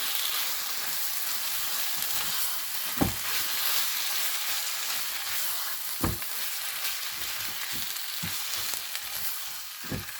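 Fish cutlet mixture stirred in a hot pan, a steady broadband sizzle running throughout with a few sharp utensil knocks against the pan at intervals, close and alone without voices.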